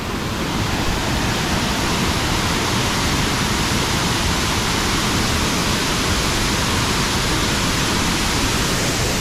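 Bang Pae Waterfall in Phuket roars as a dense, unbroken rush of falling water, loud and close, with no other sounds breaking through.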